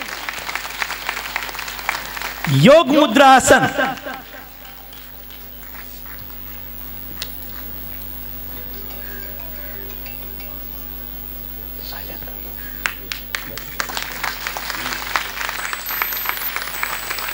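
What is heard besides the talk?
audience applause at a yoga session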